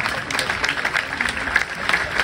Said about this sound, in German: einmal einen fetten Applaus für Sina